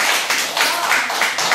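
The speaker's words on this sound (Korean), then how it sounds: "박수 한번 주십시오." An audience in a classroom lecture claps together, a short burst of dense, steady applause heard close and without talk.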